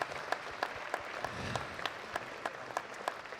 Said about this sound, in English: Let's have another round of applause for all them